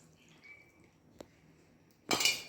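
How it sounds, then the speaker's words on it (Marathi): Tamarind water poured into a spiced mixture for alu vadi in a home kitchen: a quiet stretch with a single small clink, then a short, bright splashing pour near the end. "आता चिंचाचं पाणी"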